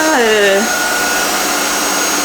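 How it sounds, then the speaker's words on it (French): A laser-equipped vacuum cleaner runs on low power, a steady close whine with a falling tone at the start, then an even motor drone to the end. "on va passer l'aspirateur"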